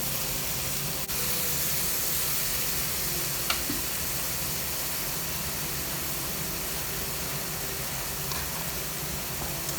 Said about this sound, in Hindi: फ्राइज़ भी हमारे फ्राई हो रहे हैं।